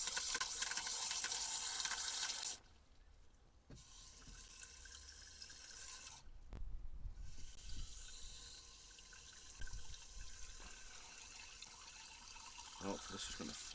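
Water running from a tap or hose to top up the coolant header tank of a car, a steady close pour that stops and restarts with brief pauses, with handling noises between.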